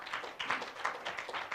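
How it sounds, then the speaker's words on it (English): Audience applause for a presenter at a cultural talk: a short, faint patter of scattered hand claps from a small crowd, steady and distant. "Let's give her a big round of applause again."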